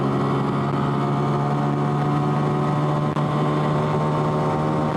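A Honda Monkey motorcycle fitted with a 14-tooth countershaft sprocket accelerating in second gear, a loud, steady, buzzing engine drone with constant harmonics that holds evenly for the whole stretch, mixed with wind.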